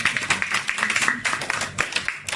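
A church congregation claps together in a fast, steady rhythm during worship praise, the dense handclaps filling the room without pause.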